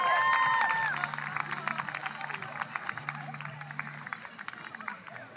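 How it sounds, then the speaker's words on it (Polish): Spectators at a youth Hubertus riding event applaud a young rider, Zosia, with a steady patter of many hands clapping at moderate volume after a brief whistle-like tone, over a low background hum. "Brawa dla Zosi"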